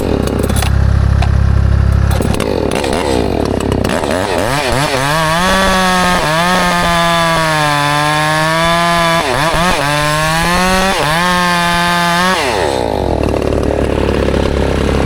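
A chainsaw cuts through a small tree, its engine loud and close, revving up and bogging down repeatedly as the chain bites into the wood, with brief dips between cuts and no speech.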